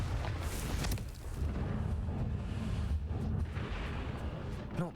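In the video game Hogwarts Legacy, a Confringo spell bursts in fiery explosions during a fight with a giant spider, with booming blasts and crackling impacts over dense battle noise.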